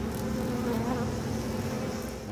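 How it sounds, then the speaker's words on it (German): A swarm of locusts from the video game Outlast 2 buzzes in a dense, steady drone that stays loud and unbroken throughout, with no talking. "Oh, Heuschreckenplage"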